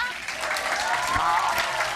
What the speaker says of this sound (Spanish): Blanquita sacó aplausos.